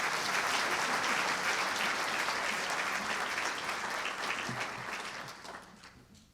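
Loud sustained applause for an award winner at a UW Seattle political science convocation, a dense hall-filling roar of clapping that holds strongly before gradually thinning and fading toward the end.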